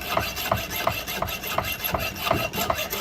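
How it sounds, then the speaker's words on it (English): A small hacksaw cuts through metal castings in quick, regular rasping strokes, about three per second, close and steady with no voices. "It would be nice not to have to sit here and use a little hacksaw."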